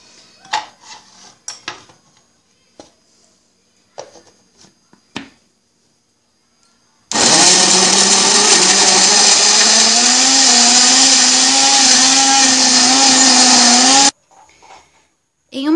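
A blender whirs loudly for about seven seconds, blending mandioquinha cream with cream cheese. Before it starts come scattered clinks and bumps as the jar is handled, and the motor cuts off abruptly.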